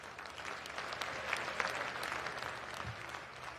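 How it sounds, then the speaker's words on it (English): An audience at a hospital commissioning ceremony in Abuja applauds Professor Benedict Oke with a brief, even patter of clapping that sounds fairly faint and distant. "Please join me in giving a warm, warm round of applause to the phenomenon that is Professor Benedict Oke"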